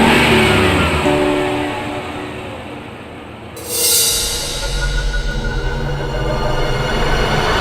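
A car pulls away and drives off, its engine rumble swelling and then holding steady at a close, loud level with no voices over it.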